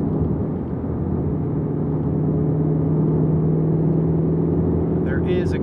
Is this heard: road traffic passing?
yes